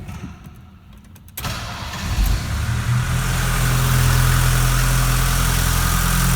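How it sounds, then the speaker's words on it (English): A 1980 Mercedes 240D W123 diesel with a four-speed cranks after a quiet moment, catches and settles into a steady low rumbling idle, loud and close. "is a diesel loud? Well, here, let me show you."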